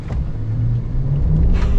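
A Chevy Silverado ZR2's 6.2-liter V8 pulls hard under acceleration, a close, steady low engine rumble that swells slightly in loudness toward the end.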